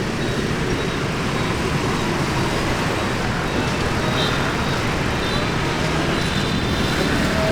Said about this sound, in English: Explosive amount of traffic.